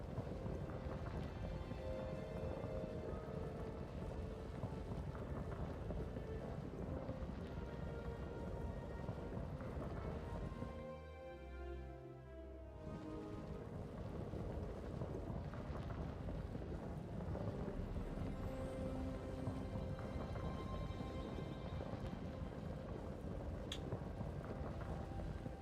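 Steady rain hiss in Jurassic World Evolution 2 sandbox mode, a continuous broadband wash with a distant thunder-like rumble partway through, no talking.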